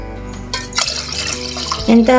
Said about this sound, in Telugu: మనకు తగినంత వాటర్ వేసుకోవాలి.